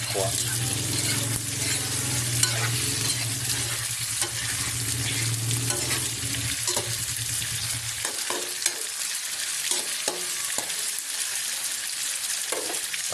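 Food frying in a pan with very little oil, near and steady, with broadband sizzle and occasional stirring scrapes and clinks; a low hum fades out partway through, and a voice talks intermittently over it.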